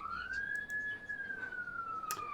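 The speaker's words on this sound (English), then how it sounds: "And the sirens go off." A police siren sound effect wails in a single long rising and falling sweep, loud and close, with a brief sharp burst near the end and no talking over it.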